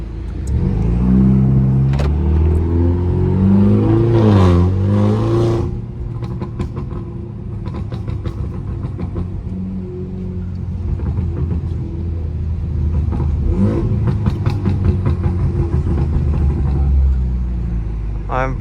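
A BMW 330i with a stage 2 downpipe accelerates with a loud, rising engine rumble and revs heard from inside the car, with pops and crackles, while someone talks at moments.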